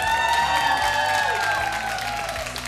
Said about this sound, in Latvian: Aplausus!